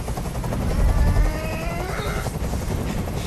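Helicopter hovering in the video game Detroit: Become Human, a loud continuous rotor drone with a low throbbing thump filling the whole moment.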